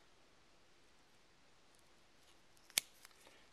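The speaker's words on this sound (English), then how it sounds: "Now we're going to take my foam again, and we're going to cut a thin strip." Scissors snip a thin strip of foam for tying a small ant hopper fly, one sharp close cut followed by a couple of faint clicks against a quiet background.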